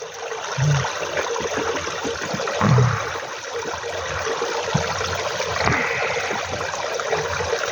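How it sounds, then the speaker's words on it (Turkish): Water splashes and trickles as stones are rinsed by hand, a steady close wash broken by a few louder sloshes. "Şöyle suyla temizliyorum da."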